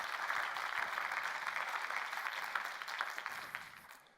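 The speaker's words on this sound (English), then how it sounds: "So a big round of applause for Arval getting this done." Audience applause for an award-winning company at a business conference on sales enablement: a sustained round of clapping from a crowd that stays even for several seconds, then tapers off into scattered claps.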